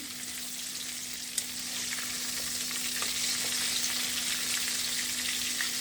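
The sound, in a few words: KFC style chicken frying in oil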